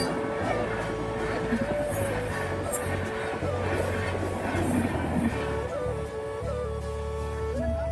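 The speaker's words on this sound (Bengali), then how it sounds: "তো স্পিড দেখতে পাচ্ছ ট্রেনের, কি স্পিডে যাচ্ছে, খুব স্পিড" A fast train rushes past at a rail crossing, a loud continuous rumble with wheel clatter and a high squealing tone, filling the whole stretch close by.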